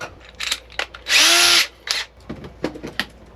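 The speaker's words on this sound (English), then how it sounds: "I'm going to use a 5/32 drill bit to pre-drill for these screws" A power drill whirs loud and close for about half a second while driving stainless screws into a new 2026 Airstream air vent, framed by shorter bursts of drilling and tool handling.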